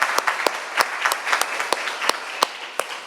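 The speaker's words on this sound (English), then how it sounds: "Can we have another applause for Becky and Jess?" Applause from a presentation audience, a thin scattering of distinct hand claps at a steady uneven rhythm over a soft room wash, fairly near and moderate in level.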